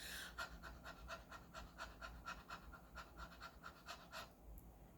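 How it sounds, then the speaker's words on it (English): Quick, rhythmic panting breaths in a steady run of short huffs, close and fairly quiet, stopping just before the end. "Another exercise you could do is called the panting dog."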